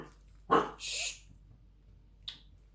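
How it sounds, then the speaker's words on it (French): A dog at home indoors gives a sharp single bark, then a short whine-like breath and a faint later yelp, sparse sounds in a quiet room. "mon chien, pardon, voit du monde dans la rue"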